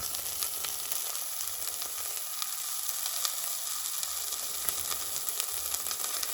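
Food sizzles and fries steadily in a pan, fish with masala in a home kitchen, a continuous crackling hiss that stays close and even throughout with no voices.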